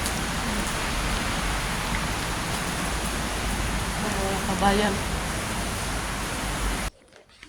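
Steady rain falls on a wet morning in a dense, constant hiss close by, with a brief voice and faint knocks partway through before the sound cuts off abruptly near the end.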